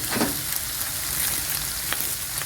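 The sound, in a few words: meat and onions sautéing in a pan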